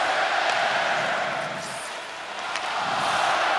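An arena crowd at a playoff hockey game, Jets versus Stars, chants 'Otters'. The roar is loud and sustained and dips briefly in the middle before swelling again.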